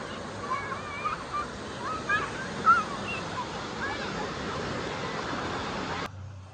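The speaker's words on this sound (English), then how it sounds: "this is what happens when the dang waves start here at the wave pool at Volcano Bay" Artificial waves starting up in the wave pool at Volcano Bay water park, a steady rushing wash of surf and sloshing water with distant crowd voices mixed in.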